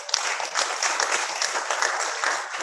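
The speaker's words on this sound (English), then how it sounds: "A round of applause for her." At a Nigerian youth internet governance forum, an audience bursts into sustained, dense applause, a continuous wash of many hands clapping with no voices over it.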